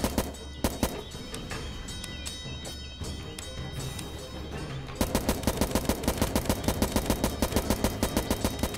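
A gun fires in Starbound with a rapid, evenly spaced stream of loud, punchy shots that starts midway and runs to the end. Before it come busier scattered combat sounds and effects.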